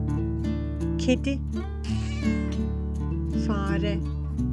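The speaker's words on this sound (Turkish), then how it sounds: "Kedi." A cat meows in a farm-animal sound series, with several drawn-out, wavering cries, one after another, loud and close, over a steady low hum and no talk.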